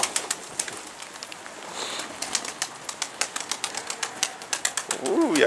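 Pigeon cooing and rapid wing flapping outdoors as rain sets in, a run of sharp flutter bursts and clicks close by with a low coo near the end, and a voice speaking faintly in the background.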